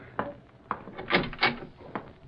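Wooden door being opened indoors, a series of soft knocks and creaks with a louder rattling thump in the middle, fairly faint and close.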